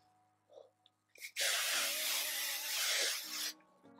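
After a few small clicks and rustles, a continuous hiss of an aerosol spray runs for about two seconds, close and loud, then stops.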